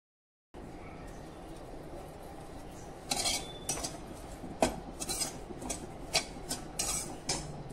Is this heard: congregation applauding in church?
no